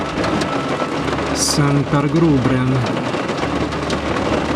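A thunderstorm with steady heavy rain and a low rumble of thunder, close and loud throughout, while a voice with rising and falling pitch speaks briefly over it.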